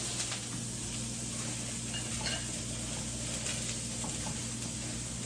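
White and green onions sizzle in a pan for sweet and sour chicken, a steady close frying hiss with a low hum underneath and faint stirring clinks.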